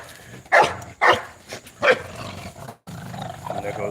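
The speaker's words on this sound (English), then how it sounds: "that sound like he's growling, but he's really just inviting play." A dog lets out several loud, rough growl-barks in quick succession, then a lower rumbling growl continues at close range.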